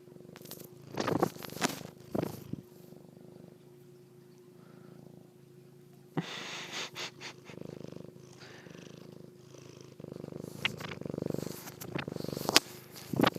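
A cat purrs right into a microphone, a low continuous rumble heard very close, broken by bursts of rustling and brushing as it nuzzles and chews at the mic.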